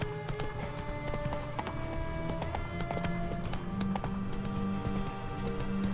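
Hooves of Roach, the horse in The Witcher 3, beat in a fast steady clip-clop under busy game ambience and music, continuous and moderately loud throughout, with no talk.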